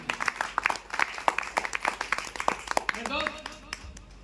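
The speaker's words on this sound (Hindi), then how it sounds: "एक बार जोरदार ताली सर।" Audience at a stage event gives a round of clapping, sparse and uneven claps over a few seconds with voices and chatter mixed in, fading toward the end.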